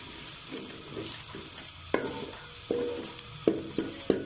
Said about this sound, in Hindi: इसी तरह सारा टमाटर काट लेने और अच्छे से भून लेने 2 मिनट के लिए।